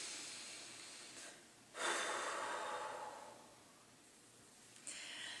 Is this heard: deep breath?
yes